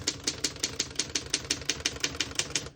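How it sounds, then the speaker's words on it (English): A 1936 Underwood 12 Western Union desktop typewriter is typed on at a quick, even pace, about seventeen sharp key strikes rattling close and loud with no talk. "We're going to keep it on single for now and finish typing."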